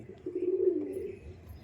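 Female pigeon giving a single low, drawn-out coo, close and fairly soft, with faint background noise.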